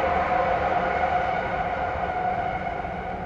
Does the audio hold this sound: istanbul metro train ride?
yes